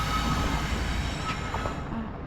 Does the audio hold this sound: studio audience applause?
no